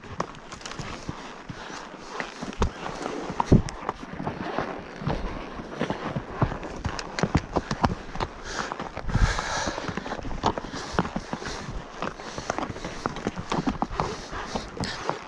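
Horse hooves clip-clop steadily along a backcountry trail, several horses including a loaded pack horse walking at once with irregular overlapping steps, fairly close and continuous throughout.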